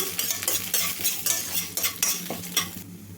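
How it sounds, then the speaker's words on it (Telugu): Cumin seeds frying lightly in a pan, a soft continuous sizzle broken by repeated scraping and stirring clinks of a spoon against the metal, close and moderately loud with no voices. "ఒక హాఫ్ స్పూను లైట్గా వేగాలండి మాడకూడదు"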